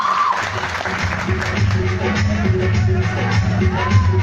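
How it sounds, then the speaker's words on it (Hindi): Audience applause welcoming performers at a 2018 Dilip Darbhangiya stage show, a continuous loud wash of clapping from a crowd with a few shouts mixed in. "ऐसे तमाम कलाकारों का स्वागत करेंगे बहुत ताली बजाएंगे।"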